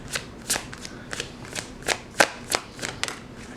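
Tarot cards being shuffled by hand to draw a clarifier card, a quick run of about a dozen crisp riffling slaps in a steady rhythm, close and clear with no talk.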